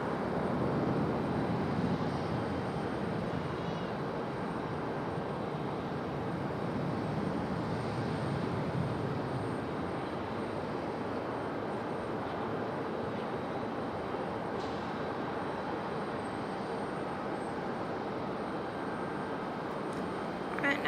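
A Southwest Boeing 737-700 airliner takes off at Raleigh-Durham International Airport, a sustained loud engine roar that stays steady and broad and then slowly eases off as the jet pulls away.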